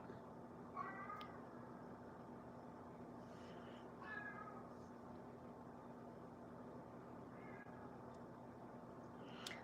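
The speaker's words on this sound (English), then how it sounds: "Can you hear my cats all right?" Several cats meowing faintly at a distance, three or four separate drawn-out calls spaced a few seconds apart over a steady outdoor hiss and hum, with wind present around a live nature camera setting.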